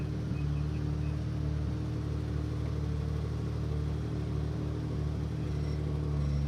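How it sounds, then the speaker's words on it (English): A BMW E30 drift car at the FIA Intercontinental Drifting Cup in Riga holds a steady, loud engine rumble throughout, a continuous mid-pitched drone with no clear revving peaks. "The first one on the grid we see is Mikkel Kraus with the number 2 and with the BMW E30 representing Denmark."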